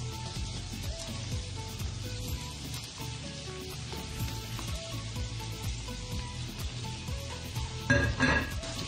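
Apples sizzle in a pan on top of frying potato hash with peppers and jalapenos, a soft continuous crackle under a faint background tone, with a brief louder clatter near the end.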